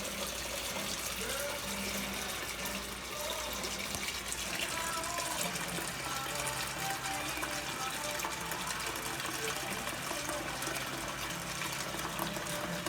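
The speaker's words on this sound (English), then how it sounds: "Now I'm gonna put water." Tap water gushes steadily into a sink or bowl while an octopus is being prepared with vinegar, a continuous loud splashing fill lasting several seconds.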